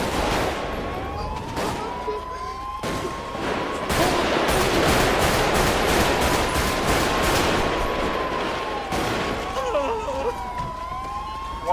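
Rapid bursts of gunfire crackle through a GTA roleplay shootout, loud and close, layered over a wailing police siren that sweeps up and down throughout.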